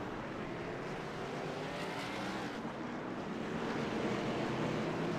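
In the iRacing video game at Michigan, the pace car rolls off with the field behind it, a steady dense engine drone that builds slightly toward the end.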